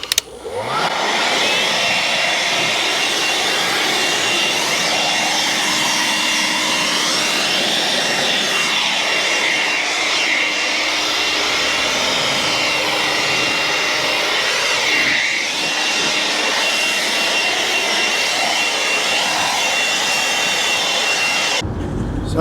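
A leaf blower roars steadily as it clears dust and debris from freshly pointed brickwork on a maintenance job, a loud, continuous, close-up whine that starts abruptly and cuts off at the end.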